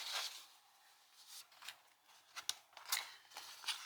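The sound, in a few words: scissors cutting out paper pieces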